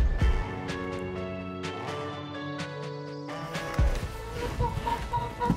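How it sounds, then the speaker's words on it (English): A hen clucks softly and repeatedly nearby, short irregular clucks over a steady background hum and some light clatter. "you might be hearing my little foster hen, Kippy."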